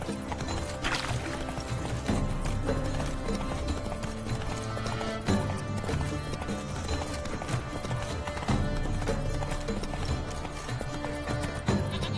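Roach, the horse in The Witcher 3, gallops with steady rhythmic hoofbeats and an occasional whinny, close and continuous over game music, without any talking.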